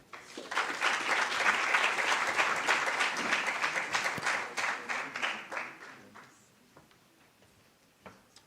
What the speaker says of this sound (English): May I please have the round of applause as we welcome Dr.